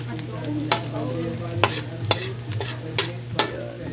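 Garlic and onion frying in a pan for adobo, a steady sizzle under repeated sharp scrapes and taps of a stirring utensil, close and fairly loud with no talk.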